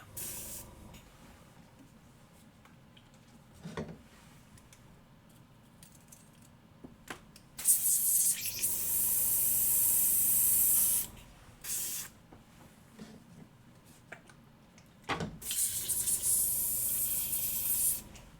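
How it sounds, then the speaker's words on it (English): Airbrush spraying paint in a hobby workspace, with two sustained bursts of loud steady hiss separated by quieter stretches of handling noise and a few short taps. "Hey Alexa, airbrush off."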